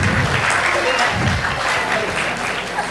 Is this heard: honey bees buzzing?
no